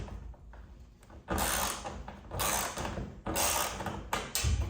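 A 10 mm socket wrench works loose a garage door reinforcement bracket, giving close, loud bursts of ratcheting and metallic scraping that come and go in uneven surges.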